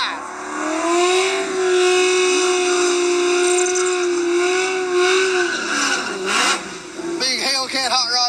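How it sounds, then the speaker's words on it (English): A Hellcat-powered hot rod races an SVT Cobra Mustang at a drag strip, loud engines holding a steady high drone that rises and falls, then sharp revving bursts and tire noise near the end. "Hellcat hot rod right here. Going against a SVT Cobra Mustang."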